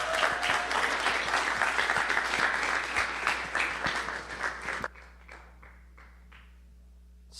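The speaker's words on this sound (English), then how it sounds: "Let's give them a round of applause." An indoor audience claps loudly for participants and staff for about five seconds, then the applause drops off abruptly, leaving a few scattered claps in a quiet room.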